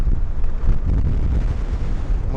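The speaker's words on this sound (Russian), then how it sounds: "Ну, ветер, конечно, сегодня что-то с чем-то." Strong wind buffets the microphone in loud, continuous low rumbling gusts outdoors in a town in Rostov region during a dust storm, with no voices.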